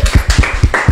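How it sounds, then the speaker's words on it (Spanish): A few distinct, sharp hand claps in quick, irregular rhythm on a Peruvian television program set, close and fairly loud, with no talking over them. "Un fuerte aplauso, por favor, a los televidentes allá"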